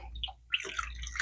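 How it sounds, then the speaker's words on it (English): Produce from a food bank haul being washed in water, with quiet splashing and dripping in short bursts close by, no talking. "I am washing them really, really good"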